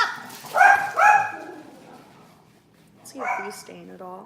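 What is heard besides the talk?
dog barking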